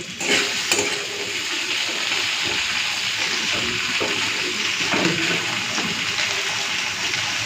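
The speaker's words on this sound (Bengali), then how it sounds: "এরপর দিয়ে দিচ্ছি কচুর লতি। দুটোকে একসাথেই ভেজে নেব।" Chopped onion and taro stolons frying together in a pan, a continuous loud sizzle and hiss with occasional scraping stirs, close and steady throughout.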